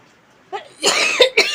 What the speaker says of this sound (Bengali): আমার খুব কাশি হয়েছে বন্ধুরা কথা বলতেই পারছি না প্রচণ্ড কাশি হয়েছে